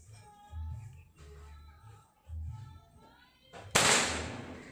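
A Marauder air rifle fires a Hercules pellet at a 25 m range: one sharp, loud crack near the end, after a low rumbling background hum.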